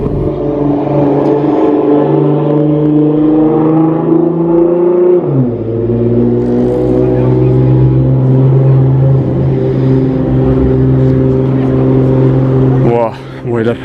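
A Nissan GT-R sports car near the Monaco tunnel, engine roaring loudly as it accelerates, a strong rising rumble with harmonics sweeping up and a gear change, continuous and close for the whole stretch.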